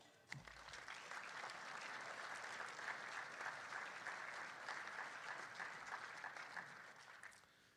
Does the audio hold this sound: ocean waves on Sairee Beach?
no